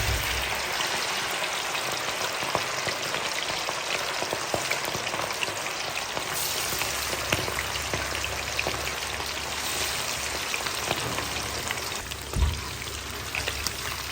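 Quail 65, marinated Kaadai pieces dropped into hot oil all at once, fry with a dense, continuous crackling sizzle, loud and close, with scattered pops and a brief clatter near the end.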